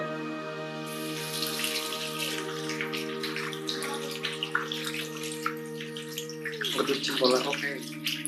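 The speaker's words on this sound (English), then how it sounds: "the contaminated area must be gently cleaned by washing it in mild soap solution and water" Water runs steadily from a tap as something is washed with a mild soap solution, set against a sustained tonal hum, with faint splashing near the end and speech in the background.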